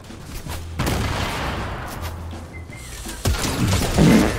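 Gunfire in a Fortnite match sounds as sharp, loud bursts of shots, with a strong volley near the start and more rapid cracks toward the end over continuous game noise.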